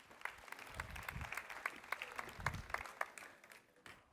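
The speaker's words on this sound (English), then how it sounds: "please give a round of applause for Daniel" Faint applause from a tech conference audience, scattered claps pattering steadily before tapering off.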